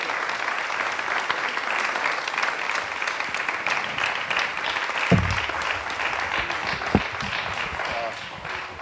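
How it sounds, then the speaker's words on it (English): Steady applause from the audience at a state senate candidate forum, a dense wash of clapping holding at moderate loudness throughout with a couple of brief thumps partway through. "A round of applause for the candidates,"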